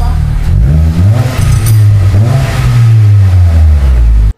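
A Hyundai Accent with a newly fitted exhaust revs loudly up close, the engine note rising and falling through a few throttle blips before cutting off abruptly, with no one talking.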